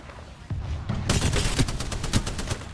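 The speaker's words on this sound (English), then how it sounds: "watch, there's nades coming" Apex Legends firefight: after a brief quiet start, heavy automatic gunfire and grenade blasts erupt and keep rattling in a dense, loud barrage until the end.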